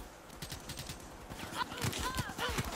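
Rapid video-game gunfire from Black Ops 3 crackles in quick bursts throughout, with dense repeated shots and a few ringing effects near the end, close and moderately loud.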